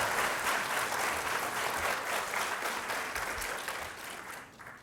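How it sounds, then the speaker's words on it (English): A school audience claps warmly for a student reader at a reading event, a dense, sustained round of applause that slowly fades toward the end, with no voices over it. "It's okay if you clap for her."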